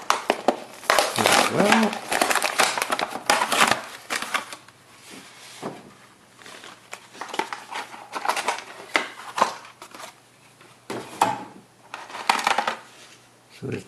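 A sealed 1989 Mega Force vehicle toy package opened by hand, with bursts of crinkling plastic and cardboard rustling at close range, intermittent across the span, and someone talking briefly.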